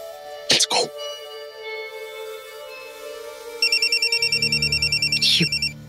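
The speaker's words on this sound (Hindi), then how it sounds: "एक सेकंड, विनोद का फोन आया।" A telephone ringtone plays in a repeating electronic pattern in the second half, loud and close, with a low hum beneath it, after a few brief throat sounds or coughs near the start.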